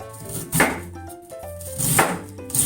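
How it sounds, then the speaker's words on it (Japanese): A knife cuts cabbage into thick strips on a cutting board, giving a few close, crisp chopping strokes and the crunch of leaves being sliced. "ちょっとざっくりと太めの千切りにします。"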